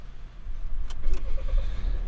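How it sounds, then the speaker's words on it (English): A 2017 Volvo V90 engine turns over and catches with a short starter whir, then settles into a low rumbling idle, heard close and fairly loud inside the car. "if I do turn the engine back on again"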